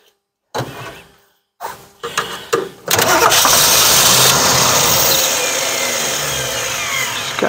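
A 1962 Ford Falcon Ranchero engine cranks in a few short bursts, then catches and roars to a loud, steady idle close by.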